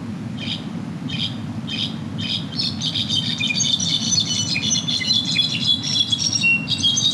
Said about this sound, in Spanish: vamos a cerrar esta lámina con una visita con el canto místico del jilguero dorsipardo